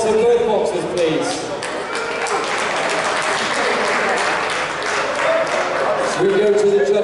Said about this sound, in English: can we have a round of applause for both boxers, please?